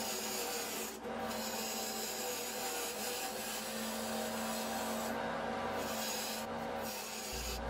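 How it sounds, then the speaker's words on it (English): Dense wood spinning on an underpowered lathe against a dull bowl gouge for a pepper mill, giving a steady close rubbing, rasping scrape with hum beneath and brief dips where the cut stalls. "You can see I'm getting a couple of stalls on the lathe, and that's probably because it was a dull tool at the moment"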